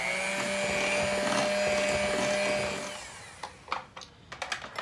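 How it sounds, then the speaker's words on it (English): Electric mixer beating pumpkin apple muffin batter, a loud steady motor whine that cuts off partway through, followed by a few clattering knocks of the bowl and beaters. "I'm just choosing to use my mixer today."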